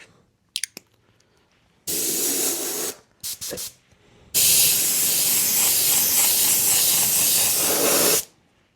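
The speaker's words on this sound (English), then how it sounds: "we'll spray some white and keep moving." Hissing bursts from an aerosol can spraying opaque white paint on an RC car body: a long spray, two quick short puffs, then another sustained spray, close by and loud.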